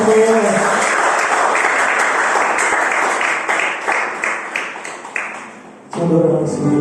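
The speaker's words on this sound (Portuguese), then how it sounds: "As palmas do Senhor nessa manhã." A church congregation claps together during a morning worship service, a loud sustained wash of many hands that gradually thins and fades before a voice or music swells back in at the end.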